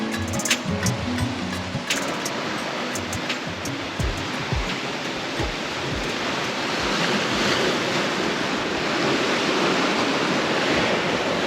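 Ocean waves and wind at sea aboard a sailboat surfing bigger seas at about 17.7 knots, a steady broadband rush of water and wind noise that swells and stays loud throughout, with a few sharp knocks early on.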